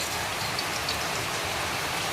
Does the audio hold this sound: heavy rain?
yes